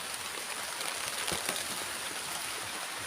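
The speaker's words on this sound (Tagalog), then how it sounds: "Salamat sa ulan." Rain falls steadily on a planted garden plot, a dense, even patter of drops and hiss heard from under a shelter, continuous and fairly close with no talk.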